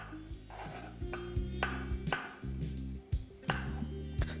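Knife chopping through mushrooms on a board for a mushroom matar curry, a series of close, sharp cutting thuds at an irregular rhythm over a steady background hum, with no voices.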